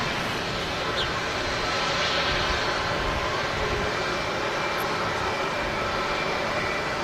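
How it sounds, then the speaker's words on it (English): A jet airliner slowly taxiing off runway 23R at Manchester Airport, its engines producing a constant broadband roar and whine at moderate distance, steady throughout with no talk. "A nice slow taxi as well as she vacates 2-3 right."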